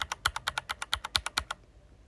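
Fast typing on an ilovbee i87 mechanical keyboard with unlubed switches, about a dozen crisp, bright clacks in a quick even rhythm, close and clear, then stopping.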